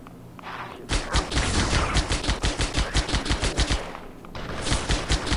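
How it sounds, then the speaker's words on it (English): An assault rifle fires rapid sustained automatic bursts in the video game Halo SPV3, loud and close, with a short pause before a second burst. "Assault rifle. Assault rifle jackal."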